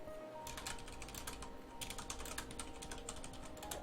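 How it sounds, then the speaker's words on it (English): Rapid, irregular clacking of keys on a computer keyboard, steady and close, with no voices. "Okay, I'm just typing this in Skype."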